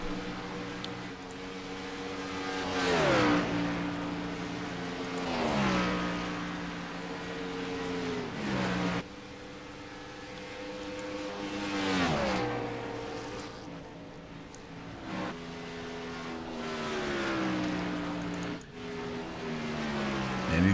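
Race cars in an ICAR Cup Series race at Atlanta Motor Speedway, engines rising and falling in pitch as cars sweep past in repeated waves, moderately distant.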